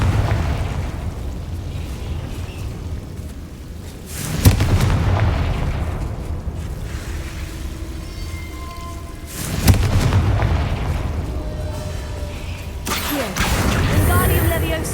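A Confringo blasting spell in a video game sets off a series of loud, booming explosions, each a sharp hit with a rolling rumble after it, while voices talk over the game sound.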